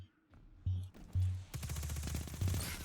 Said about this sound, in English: Gunburn, the new SMG from Season of the Lost.